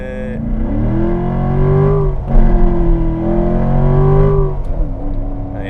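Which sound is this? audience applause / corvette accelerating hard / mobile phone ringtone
corvette accelerating hard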